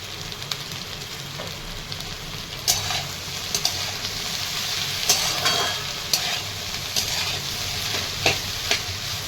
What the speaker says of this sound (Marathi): छान परतून घेते चवीनुसार थोडं मीठ टाकून घेते